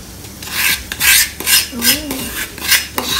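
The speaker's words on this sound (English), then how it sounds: "Let's scrape every little bit of thing" A spoon scrapes a pan clean of suji halwa, rough rasping strokes repeating close by in an uneven rhythm, with a short voiced sound in the middle.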